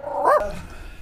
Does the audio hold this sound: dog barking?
yes